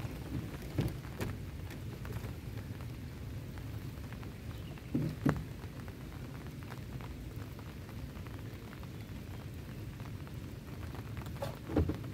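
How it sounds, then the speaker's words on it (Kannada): Steady monsoon rain falls over a flooded farm in coastal Karnataka, a continuous soft wash of patter with a few louder close drops and splashes, no voices. "ಇವಾಗ ಮಳೆ ಬರ್ತಾನೆ ಇದೆ"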